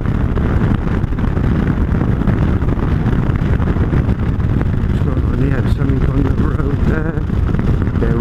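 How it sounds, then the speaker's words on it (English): Heavy wind roar from driving fast in a car, a loud, constant low rumble and buffeting that fills the whole span without letup. "It's fast enough that the wind's there."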